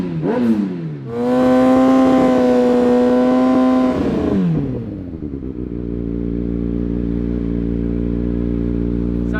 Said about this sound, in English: Carl here, he's brought his ZX6, which has got one of those really loud end cans on it